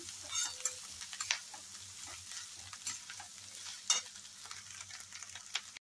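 Egg fried rice stir-fried over a high flame in a wok: a steady sizzle with repeated scraping and tossing strokes of the spatula, close but fairly soft, with no talking.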